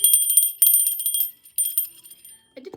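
A small bell from a Goodwill shop rings in a few bright, high, shimmering strikes that fade between hits, close and clear, with a short soft knock at the end.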